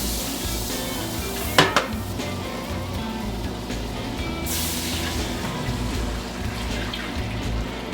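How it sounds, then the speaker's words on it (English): Food sizzles steadily in a pan with a crackling hiss, and a couple of sharp metallic clinks sound near the start. "You hear that sizzle?"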